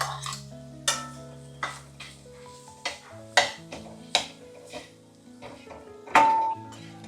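A spoon knocks and scrapes in a pan while a dry bitter gourd stir-fry is mixed with coriander, crushed peanut powder and salt, giving sharp metallic clinks at irregular intervals with soft stirring between them.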